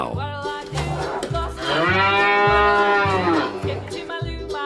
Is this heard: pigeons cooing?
no